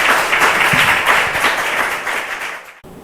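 Sustained applause from a church congregation welcoming a pastor at a Sunday service in Singapore, steady and dense for about three seconds before cutting off abruptly near the end.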